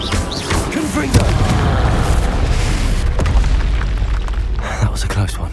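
Confringo fire spell going off in Hogwarts Legacy on Hard difficulty, a dense booming burst amid ongoing combat noise, with a voice calling out over the fight.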